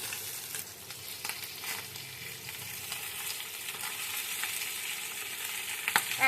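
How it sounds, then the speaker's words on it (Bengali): Tangra fish, roe-filled, frying in a pan until golden, a steady close crackling sizzle with occasional sharper pops and stirring noises, no talk. "ঠিক এইরকম সোনালি রং ধরা পর্যন্ত 2 পিসই ভেজে নেব।"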